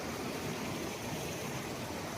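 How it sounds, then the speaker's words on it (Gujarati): The Singoda river, running low in hot weather near Jamjir waterfall in Gir, gives a continuous broadband rush of flowing water, steady and moderately loud throughout with no voices. "જો આ છે નદી."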